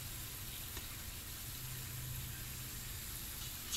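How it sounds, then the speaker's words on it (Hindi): Homemade falafel deep-fry in hot oil, a quiet even sizzle and bubble that runs steadily with no voices. "चार से पांच मिनट तक आप इन्हें फ्राई करें, बाहर से बहुत क्रिस्पी होंगे"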